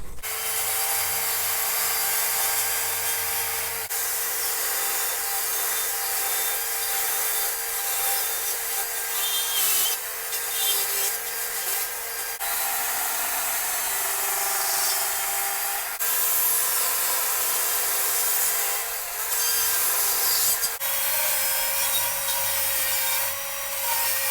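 A carving knife scooping and paring wood while shaping a carved ghost figure, giving a steady, close scraping and rubbing texture that runs continuously with small shifts in stroke, and no voices.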